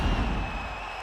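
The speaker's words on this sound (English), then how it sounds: "So the crowd voicing its appreciation after that round" A crowd in the EA Sports UFC 5 video game applauds and cheers after a round, making a steady, dense wash of noise for about a second.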